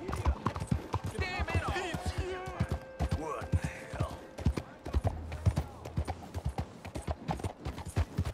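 Horse hooves in Red Dead Redemption 2 clip-clop in a quick, even rhythm, close and clear, with a brief vocal or whinny-like sound partway through.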